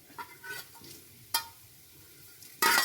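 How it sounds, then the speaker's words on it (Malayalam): Garlic and dried red chillies fry in a pan while a spoon stirs them, with soft sizzling and a few scraping strokes, then a louder burst of frying at the end. No one talks. "വെളുത്തുള്ളി ഇട്ടിട്ട് ജസ്റ്റ് ഒന്ന് ഇളക്കി കൊടുക്കാം. അതിൻ്റെ ഒരു പച്ചമണമൊക്കെ ഒന്ന് മാറുന്ന വരെ. വറ്റൽമുളക് ചേർക്കാം."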